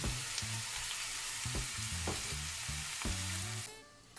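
Cabbage sizzles steadily in a covered pan, a loud constant fry with soft stirring knocks, no speech, until the sound drops away near the end.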